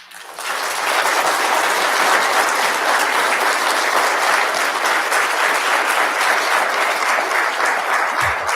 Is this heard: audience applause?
yes